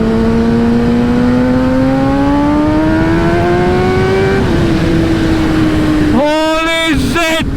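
Kawasaki ZX-10RR litre-class superbike engine revving loudly up through a long rising pull, easing off briefly, then sharp throttle blips near the end, close and continuous.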